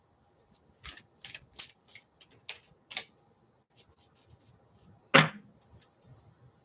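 Oversized tarot cards being shuffled by hand make a series of short papery riffles and taps, close and fairly quiet, with one sharper snap near the end.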